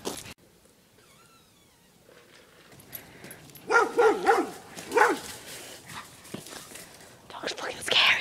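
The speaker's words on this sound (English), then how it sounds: "Holy shit, you hear that dog?" A dog barks in a few loud, sharp bursts partway through, with quiet whispering and faint rustling before and after.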